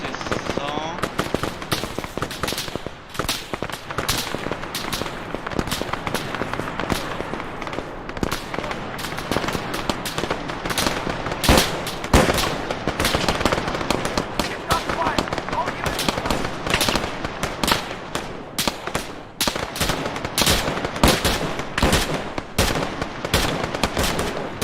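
Turret machine gun in ArmA 3 firing long, rapid bursts of close, loud shots that keep rattling nearly nonstop, with a voice talking over the gunfire at times.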